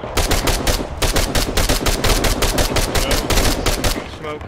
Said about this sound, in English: Please down, I'm taking heavy fire.